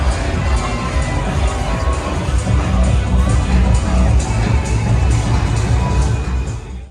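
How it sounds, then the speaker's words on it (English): Spectators at Loi Kroh Boxing Stadium in Chiang Mai roar and shout during a Muay Thai bout, a loud, continuous crowd din with sharp bursts and babble. "The crowd would cheer at each strike."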